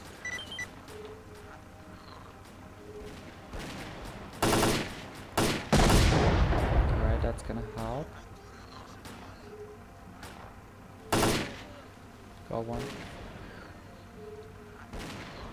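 Gunfire in the video game S.T.A.L.K.E.R.: Clear Sky during a shotgun fight, with several loud separate blasts, one longer heavy volley with echoing tail, then quieter scattered shots over a low ambient hum.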